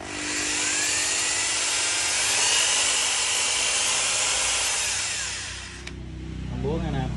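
A Japanese power drill runs steadily in normal mode, a loud continuous high whine for about six seconds before cutting off, followed by a brief spoken voice over a low hum.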